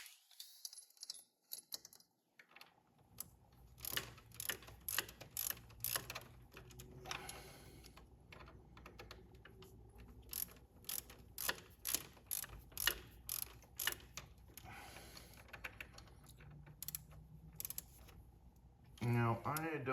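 A ratchet tightens bolts during a 7.3 Powerstroke install, with rapid clicking bursts repeating in uneven runs over about twenty seconds, close up and fairly quiet.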